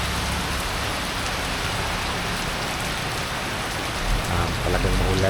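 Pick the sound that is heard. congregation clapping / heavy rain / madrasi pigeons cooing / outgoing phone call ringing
heavy rain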